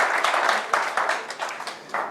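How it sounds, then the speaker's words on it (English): An audience at a lightning talk event claps together in a lively burst of applause, dense and fairly loud, with individual claps popping out as it gradually thins. "you guys deserve a round of applause yourself"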